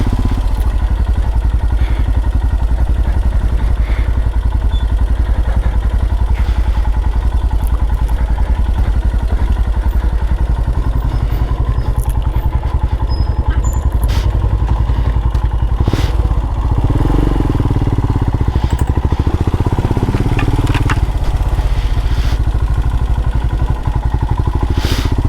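A Royal Enfield Himalayan motorcycle rides a rough green lane, its mid-pitched engine droning steadily and loudly throughout with clattering thumps from the uneven ground, a few bumps standing out near the middle.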